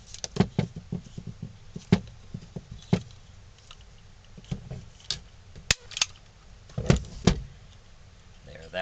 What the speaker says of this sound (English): I'll put a staple in here.